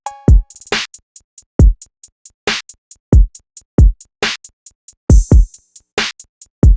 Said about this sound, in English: So when you add everything together with the kick, which plays this extremely simple kick pattern, the drums sound like this.